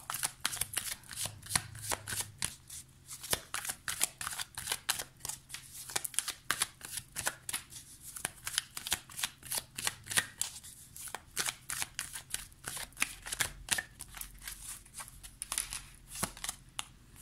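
A tarot card deck shuffled continuously at close range, quick crisp riffling flutters repeating in a steady rapid rhythm with no talking.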